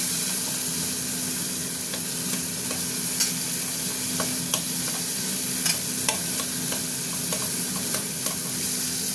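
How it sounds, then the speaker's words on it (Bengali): Tomato fries with asafoetida in a pan for papaya moong dal, a close, constant sizzle punctuated by repeated spatula scrapes and taps. "টমেটোটা একটু ভাজা ভাজা হোক।"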